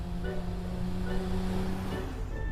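A car engine revs in a TV car commercial, a continuous droning roar with steady tonal hum held throughout the short stretch, fairly quiet and with no voices over it.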